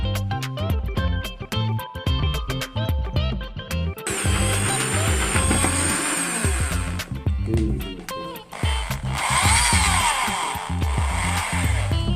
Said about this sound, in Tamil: அந்த மார்க் பண்ண இடத்த வந்து ட்ரில்லை வச்சு ஓட்டை போட போகிறேன்.